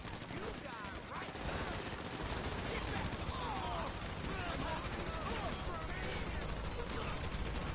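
Gunfire in the video game GTA 5, a steady clatter of shots blending into a dense wash of noise, with people talking and shouting over it throughout.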